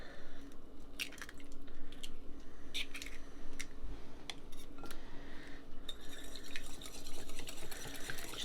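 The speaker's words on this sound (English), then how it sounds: "we're going to start by whisking our egg" A whisk beats an egg in a bowl for pancake batter, quick soft clicking and wet sloshing strokes repeating close up at a low level, without speech.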